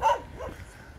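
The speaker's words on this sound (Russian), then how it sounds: "Нас собаки не сожрут здесь?" A dog barks once outdoors at night on the outskirts of Kyiv, a single short woof that fades into a quieter, distant background.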